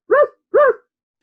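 A dog gives two loud, close barks in quick succession, then falls silent, with no talk around it.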